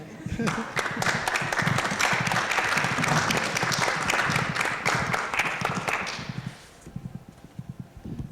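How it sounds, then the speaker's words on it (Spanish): Lively applause from an academic audience at a certificate presentation, with many hands clapping in a brisk patter that fades out toward the end, followed by a few scattered claps. "se vale aplaudir, claro, desde ya"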